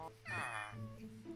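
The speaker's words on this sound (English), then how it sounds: "Where's the meow coming from?" A cat in the Minecraft video game gives a single short meow, moderately clear and alone against a faint background.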